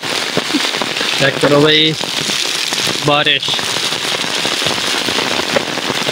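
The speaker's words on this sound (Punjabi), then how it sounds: "ਬਾਰਿਸ਼ ਹੋ ਗਈ ਸ਼ੁਰੂ" A heavy storm downpour falls around a house just after the rain begins, a thick steady hiss, while a voice speaks briefly twice over it.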